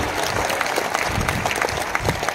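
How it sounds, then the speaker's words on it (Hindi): Audience applause at a live comedy show, steady clapping from a crowd spread throughout, with occasional louder individual claps standing out over continuous noise. "इस खुशी से आपको ताली बजाना चाहिए"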